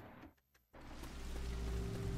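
Rain in the video game Left 4 Dead, a steady broadband hiss of falling rain that swells in after a brief quieter stretch and holds at an even level to the end.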